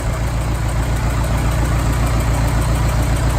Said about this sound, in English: That's running way better than it used to too. He's at an idle.